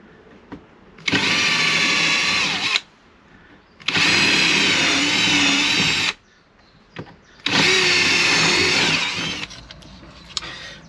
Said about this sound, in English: we drill and drill and drill until we get to a point where there's nothing left in the middle